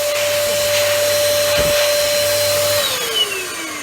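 An Earlex HVLP spray system's turbine runs with a steady, vacuum-like whine and rushing air, close and loud, then its pitch drops as it begins to wind down.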